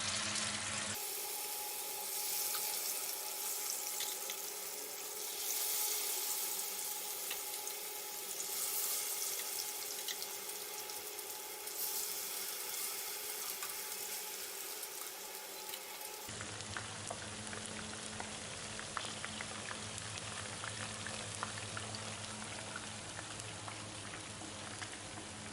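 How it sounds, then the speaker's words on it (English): Chicken pieces sizzle in hot coconut oil in a frying pan, a continuous crackling hiss with fine popping that stays steady and close for the whole stretch, with no one talking. "When the oil is hot, fry the chicken."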